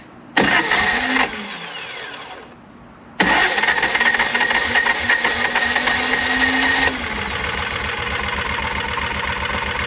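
A Kawasaki Mule, just after a carburetor rebuild, cranks with a starter whir, catches briefly and drops out, then cranks again and fires into a steady run that settles into a rhythmic idle.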